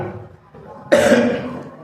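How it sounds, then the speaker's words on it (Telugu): A person with a cold coughs once, a sudden harsh burst close by after a quiet stretch with faint low murmuring, then trailing off over about half a second. "ఇప్పుడు నాకు జలుబు ఎక్కువ, దగ్గు ఎక్కువ వస్తుంది"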